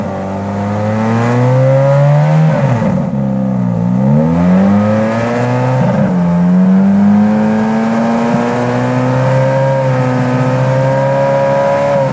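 Ferrari F430 V8 engine and exhaust revved in a stationary rev test up to about 4000 rpm, loud and close, with the pitch rising, dipping and climbing again before holding a steady drone.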